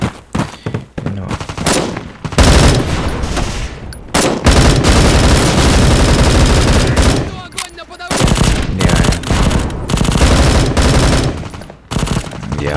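Machine gun fire in the video game Bullet Force comes in loud, sustained bursts separated by brief pauses. A voice speaks faintly beneath the gunfire.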